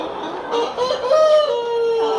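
A hen clucks and crows close by, a short run of rising, squawking calls lasting about two seconds.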